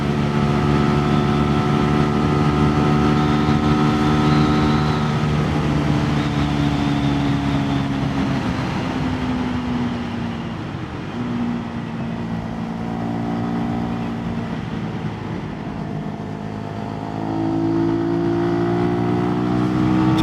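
A 2022 Sinnis SM-R 125 motorcycle is ridden up to speed, its small engine droning loudly and continuously with rising pitch through the gears, mixed with strong wind rush, and no voices.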